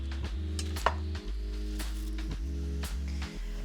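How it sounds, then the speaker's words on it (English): A kitchen knife cuts chives into small battens on a board, with about eight crisp, evenly spaced chops over a steady electrical hum and no talk. "For the chives, I'm going to cut them into small battens."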